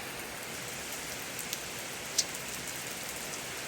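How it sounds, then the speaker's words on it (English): Light rain patters steadily on a surface near an animal stall, soft and even, with a couple of single drops landing close by. "But, it's not raining hard."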